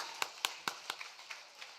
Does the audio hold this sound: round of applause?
yes